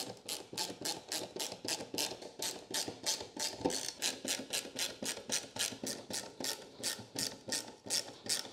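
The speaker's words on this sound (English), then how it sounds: "This is the best ratcheting screwdriver I've ever used." A ratcheting screwdriver drives plain all-purpose one-inch screws, making a rapid, regular series of sharp, close ratchet clicks in even bursts that continue throughout.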